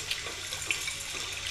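Water running steadily from a tap in the video game Fallout 3, a constant hiss of flowing water without talking.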